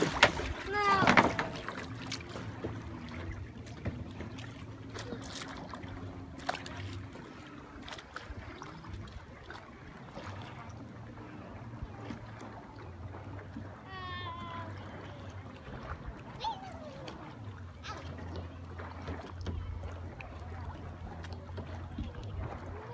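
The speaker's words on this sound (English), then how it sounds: "Left paddle, right paddle, left paddle, right, left, right." A kayak paddled through water by a first-time paddler, with soft splashes and strokes running steadily beneath near, continuous talk and occasional exclaims.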